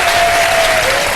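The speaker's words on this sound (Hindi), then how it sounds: "अरे वाह, नौजवानों ने तालियां बजाई हैं" Studio audience applause from an iftar television show, a dense, loud burst of many hands clapping together for about a second, with a faint voice heard beneath it.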